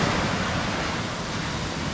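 Soft ocean waves wash steadily along a white-sand beach as a broad, continuous wash of surf with no distinct breaks, steady and moderately faint throughout.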